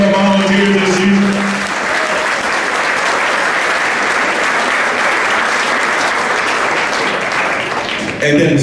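A football banquet audience gives a loud, sustained round of applause for the season's volunteers, dense clapping from a full room with a brief murmur of talk at the very start and end.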